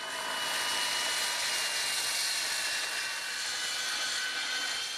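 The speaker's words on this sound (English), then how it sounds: "So we'll use the circular saw and rough cut these slabs to length" Circular saw rough cutting wood slabs to length outdoors, a continuous loud whining buzz of the blade biting through wood, sustained and steady throughout without pause or voices.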